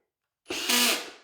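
A power drill whirs up abruptly and runs steadily for under a second, rising slightly in pitch, close and loud with no talking.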